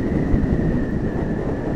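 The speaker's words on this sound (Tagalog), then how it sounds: "Lakas yung hangin." Strong wind buffets the microphone during a motorcycle ride on roads in Calaca, Batangas. A dense, steady low roar runs through the whole clip with a faint constant tone above it and no speech.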